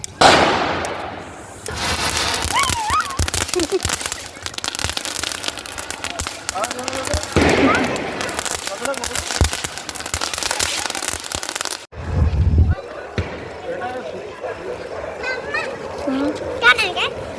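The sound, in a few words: firecrackers set off by children for Govardhan Puja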